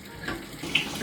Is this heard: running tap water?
yes